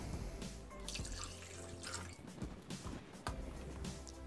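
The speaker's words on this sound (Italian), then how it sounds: "Adesso aggiungiamo l'acqua" Water poured into a Thermomix (Bimby) while making a mascarpone, parsley and almond risotto makes a faint, steady trickle and splash for a few seconds, with no talking.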